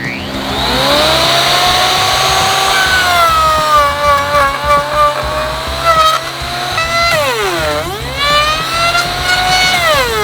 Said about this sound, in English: Grab your trusty 1/2" router, which we have about like 1 1/8" deep V-bit, and send it.